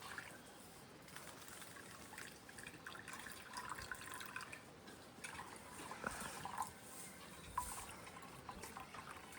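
Water poured into bowls for sparrows in a village yard, a steady trickle and splash running throughout with a few brighter drips.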